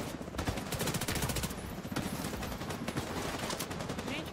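Rapid automatic gunfire in The Division 2, dense bursts of fire rattling almost without pause, loud and close, with a short lull midway before the shooting resumes.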